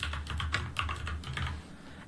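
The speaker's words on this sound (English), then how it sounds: "You can just start typing." Rapid clicking of computer keyboard keys in a steady, close flurry of keystrokes while planning in a digital workspace, with no talking.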